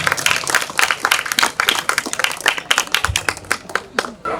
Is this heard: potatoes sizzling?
no